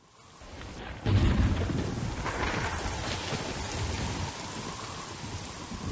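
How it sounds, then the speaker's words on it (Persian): A thunderstorm sound effect for a forest story with storm and flooding: a deep thunder rumble swells in after a quiet start, then heavy steady rain pours continuously, loud and alone without voices. "یک روز در جنگل طوفان شده بود و سیل آمده بود."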